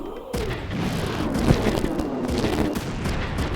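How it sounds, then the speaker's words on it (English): Machine gun turret fire in the video game Front Mission 3, a dense continuous clatter of rapid shots with booming impacts, loud and close throughout. "Shoot the machine gun turrets."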